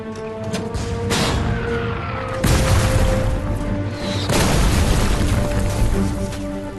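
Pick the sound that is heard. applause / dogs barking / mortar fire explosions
mortar fire explosions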